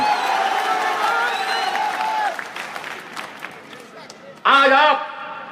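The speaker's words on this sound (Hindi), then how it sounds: "तालियां मारते हैं, नारे लगाते हैं" A crowd at a large public political meeting applauds and cheers, first as a long burst of clapping that fades, then as a short loud shout of slogans near the end, with a voice speaking over parts of it.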